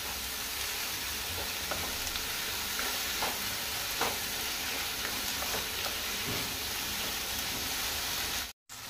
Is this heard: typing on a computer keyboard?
no